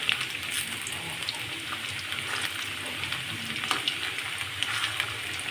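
Running water splashing steadily as potatoes are washed, a continuous bright hiss with small irregular drips and clatters, fairly close, no talking.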